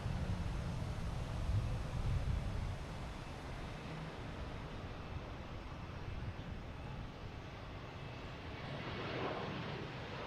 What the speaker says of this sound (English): So that was Delta 1022 coming in.